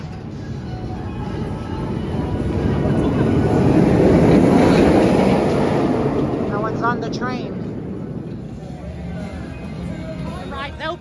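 The Dominator floorless roller coaster train at Kings Dominion roars past on its track, building to a loud rush midway, with screaming riders and crowd noise blended in before it fades.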